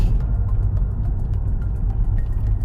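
A turbocharged Subaru engine fitted with a RAMAIR intake filter, idling as a steady low rumble close by, with faint intermittent clicks above it and no voices.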